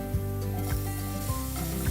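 Vegetables hitting a hot pan beside seared free-range chicken, a soft continuous sizzle with scraping stir strokes at regular intervals and a low steady hum underneath, close and moderately quiet.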